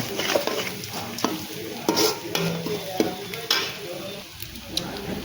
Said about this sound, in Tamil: பெருங்காயத்தூள் போட்டுக்கோங்க. போட்டு வெங்காயம் நல்லா வதங்க வச்சு